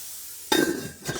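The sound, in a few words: hamburger patty frying in a pan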